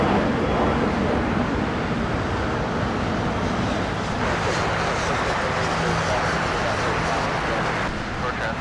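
A Qantas airliner at LAX gives a steady broad jet rumble and roar mixed with wind and distant traffic, with a voice speaking briefly over it.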